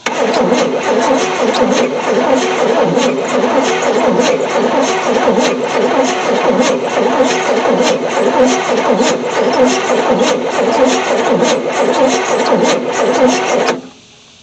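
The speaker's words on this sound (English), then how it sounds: "hopefully it'll start without going through it." Starter cranking on a 1973 Chevy C10 squarebody pickup that sat abandoned for 27 years, with a carburetor needing a rebuild. A loud, steady, rhythmic churning goes on for about fourteen seconds, then cuts off abruptly.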